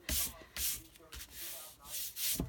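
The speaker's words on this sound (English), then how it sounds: "I have a little bit of extra score pile tape showing, so I'm going to kind of rub that off just a little bit" Paper rubbed to remove excess Scor-Pal adhesive tape, giving a few dry, scratchy strokes in short bursts, close and fairly quiet, with no talk.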